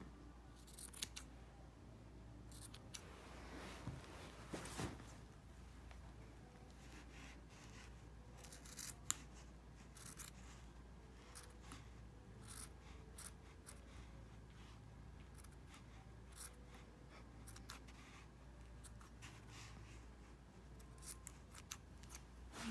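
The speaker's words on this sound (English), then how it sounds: "And now we'll just trim it up a little bit." Scissors trimming the unraveled ends of a cord or rope, a near series of quiet snips and rubbing cuts scattered across a faint room background, with no talking.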